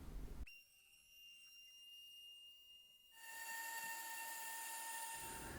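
A small 3018 PRO CNC router engraves a grid into a spoilboard, its steady whining spindle tone holding alone and then turning louder and brighter as the bit cuts in.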